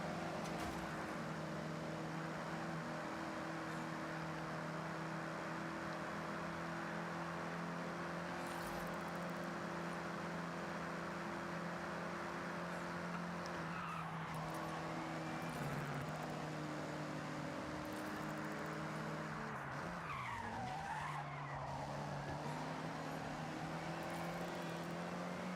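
Race cars in GTA Online drone steadily with sustained engine tones that shift in pitch as they accelerate, pass and corner, and a brief swoop near the end suggests one car closing in and overtaking.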